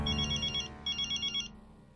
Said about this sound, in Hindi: आज लैंडलाइन से कैसे फोन कर रहा?